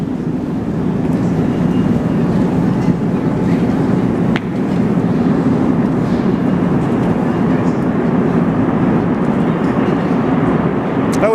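A Montreal STM metro train pulls into a station with a loud, sustained low rumble and roar, steady throughout at close range.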